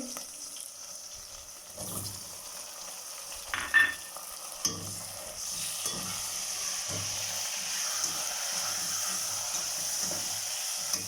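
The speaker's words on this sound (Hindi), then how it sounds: "मिर्चों को हमने हल्का सा फ्राई कर लिया है। अब इसमें टमाटर ऐड कर लेंगे।" Tomatoes frying with green chilies in a hot pan for chana dal fry. A steady close sizzle runs throughout, with a few clattering stirs and scrapes early on and no talking.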